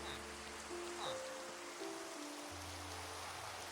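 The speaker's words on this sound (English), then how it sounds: "of course it has to rain" Steady rain patters on surfaces in the Minecraft video game, a broad, even hiss that holds throughout with faint tonal game sounds drifting over it and no talking.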